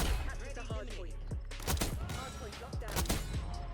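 Heavy hand cannon gunfire in the Black Ops 6 shooter, a handful of sharp, loud shots spread irregularly over a few seconds amid busy game effects and a steady low background.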